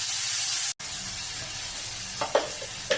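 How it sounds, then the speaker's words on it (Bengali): Cumin, ginger paste and chili hitting a hot pan give a steady, close sizzle and hiss with a few soft stirring scrapes near the end, with no talking. "এবার আমি মশলা দেব জিরে আর আদা বাটা আর লঙ্কা"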